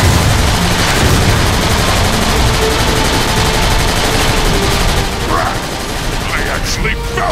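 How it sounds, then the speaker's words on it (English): Airstrike explosions pound the battlefield in Transformers: Fall of Cybertron, a loud, dense barrage of blasts and rapid gunfire rumbling nonstop close by, easing slightly near the end. "Airstrike commencing!"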